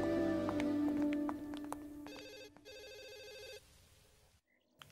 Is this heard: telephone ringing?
yes